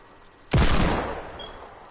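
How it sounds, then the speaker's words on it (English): A single sharp gunshot in a shooter game, loud and sudden, with a broad blast and a decaying tail that fades over about a second. "I'm getting shot everywhere."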